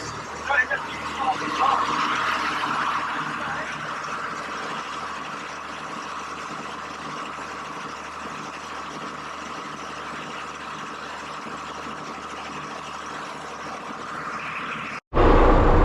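Turbocharged Cummins 6BT diesel engine running steadily at 1500 RPM, a continuous, even, throbbing drone that holds near and constant before a brief dropout and a louder burst at the end.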